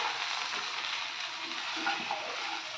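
Spices fry gently in an oiled pan for a Bengali kochi kumro chokka, a young pumpkin curry, giving a steady, soft hiss and sizzle throughout with no voices.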